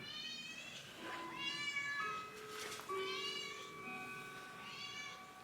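A calico cat meows insistently for food several times in a row, long drawn-out cries at close range, with faint background noise between them.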